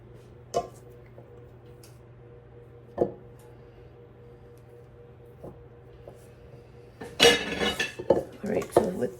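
Thick blueberry muffin batter mixed by hand in a bowl: a few sparse clinks of a utensil against the bowl, then a burst of scraping, stirring clatter near the end, close and fairly quiet.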